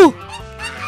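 A goose in the Upin Ipin Mobile video game honks with a short, loud burst at the start, followed by quieter game sounds and background music.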